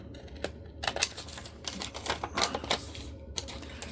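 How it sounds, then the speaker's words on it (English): Scissors snip repeatedly through paper, trimming scalloped edges for a craft shaker pocket, with quick close crisp cuts in an uneven rhythm and no talking. "I'm just going to use my scissors and just cut off the little scalloped bits"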